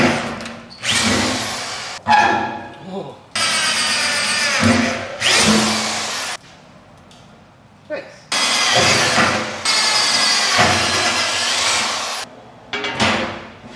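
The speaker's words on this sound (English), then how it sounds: "now I need to drill some holes and hope for the best." A power drill whirs in several bursts of a few seconds each, close by, with short pauses and a little talk between them.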